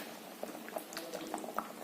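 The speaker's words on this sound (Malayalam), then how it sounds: "കറി തിളച്ചു" Brinjal and ivy gourd curry boiling in a pot, soft irregular bubbling pops close by and fairly quiet.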